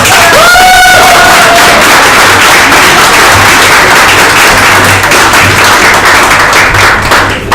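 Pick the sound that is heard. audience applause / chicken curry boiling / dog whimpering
audience applause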